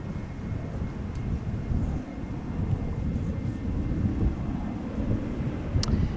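A jet airliner, a Condor-liveried plane among them, roars in on approach to land at Schiphol Airport, a steady broad rumble holding loud and close throughout with no voices over it.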